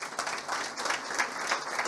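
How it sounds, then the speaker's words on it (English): Applause from an audience at an International Women's Day event in Kenya, a steady, dense patter of many hands clapping continuously throughout at moderate distance, with no talk over it. "Please clap for her."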